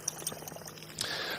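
Ice-cold water is poured, a short trickling splash that swells into a steady hissing stream, close and moderately loud with nobody talking over it.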